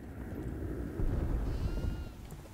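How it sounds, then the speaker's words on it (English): A goat bleats in the horror video game Devour, a faint wavering cry that sounds distant, as if coming from outside, over a low rumbling background with no talk. "I hear the goat. I hear a goat. I think it's outside."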